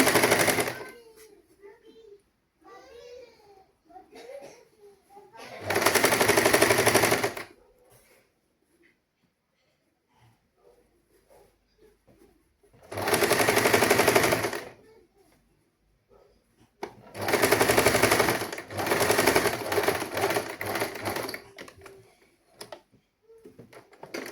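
Sewing machine stitching a sari blouse in three loud rapid bursts of fast rattling needle strokes, each lasting a couple of seconds, separated by quiet stretches with faint handling sounds and scattered speech.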